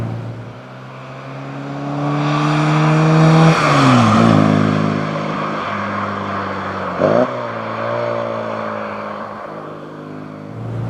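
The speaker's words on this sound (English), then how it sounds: "it's a very, very characterful little engine" A 1969 Mini Cooper S engine drones steadily, rising in pitch as it revs and then dropping back with gear changes, heard close up and loud.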